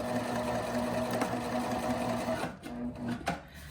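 A sewing machine runs a seam on a tiny teddy bear, a steady close mechanical whir that pauses and restarts briefly near the end as the stitch reverses.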